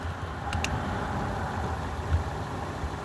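A car that sat unused for two years idles roughly, giving a steady, close, low rumble broken by a couple of sharp clicks near the start, with no talking.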